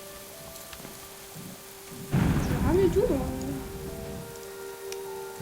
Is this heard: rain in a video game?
yes